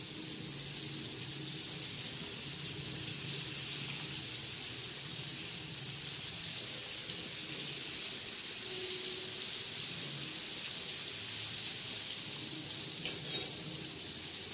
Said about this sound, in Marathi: खरपूस अशी खमंग अशी बघा कशी मस्त खरपूस मच्छी तळली ना.